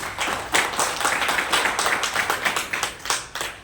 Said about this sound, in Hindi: सबसे पहले तो शिवसेना के लिए एक बार जोरदार वाली तालियां हो जाए